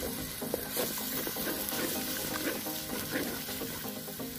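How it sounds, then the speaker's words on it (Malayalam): Ginger garlic paste and chopped green chillies frying in a pan for chicken curry, a faint continuous sizzle with soft stirring scrapes, low in level and without talk. "നന്നായിട്ട് ഇളക്കി കൊടുക്കുക."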